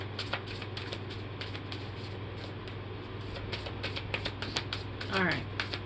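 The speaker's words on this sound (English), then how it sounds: "So I have to shuffle them in parts." A very large tarot deck shuffled in portions, giving soft repeated riffling and flicking bursts over a steady low hum, with a louder flurry of card handling near the end.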